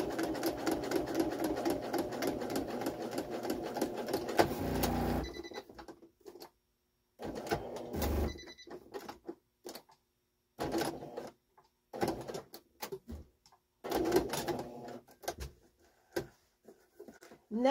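A sewing machine stitching a curtain's 3-inch pinch-pleat heading, a steady close mechanical whir for about five seconds, then short intermittent bursts of stitching with quiet gaps, no talking.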